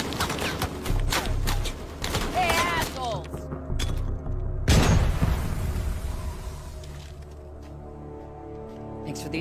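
A frag grenade goes off in a war video game with a single loud boom midway, set among game music, scattered thumps and voices talking before and after.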